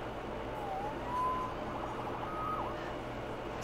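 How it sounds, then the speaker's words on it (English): A police siren in Marvel's Spider-Man Remastered game sounds at moderate distance, wailing and sweeping up and down over a steady city background hum. "Saved by the siren."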